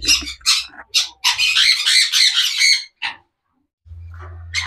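Conures squawk loudly and harshly at close range in an aviary holding pairs of pineapple, sun and blue yellow-sided conures. The calls come in rapid, grating bursts with short pauses, followed by a low hum.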